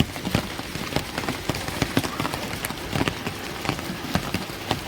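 Steady rain falls in late May, pattering densely on a surface with scattered sharper drops and splashes, close and continuous throughout.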